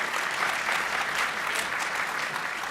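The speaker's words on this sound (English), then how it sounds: "let's give a quick round of applause to all of our panelists" An audience at a legal conference panel on intellectual property and AI claps steadily for the panelists, a full, even burst of applause lasting a few seconds.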